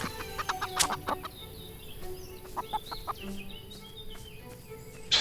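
Chickens cluck and squawk intermittently over a constant background hum in the farming video game Everdream Valley, several short calls scattered across the clip.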